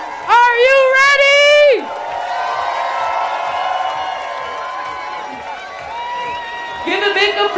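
A club crowd at a Dekmantel DJ set cheers. Loud whoops and shouts burst out at the start and end, with a lower sustained swell of cheering and clapping in between.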